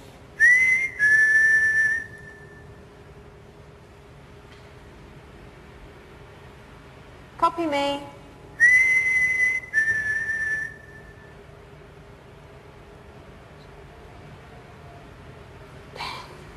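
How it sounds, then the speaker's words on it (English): Short high whistles sound in separate bursts inside the Morecambe Winter Gardens theatre at night, a couple early and a couple later, with a brief voice speaking between them and quiet gaps around them. "Whistling? Can you make the whistling much louder, please?"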